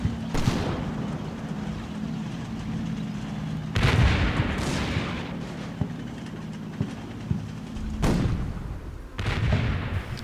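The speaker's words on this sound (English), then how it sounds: "Then we get a tank in the smoke that is firing out." Tank firing shells in Combat Mission: Battle for Normandy, with several heavy booming shots spaced across a continuous low engine rumble, the strongest blasts arriving close together near the end.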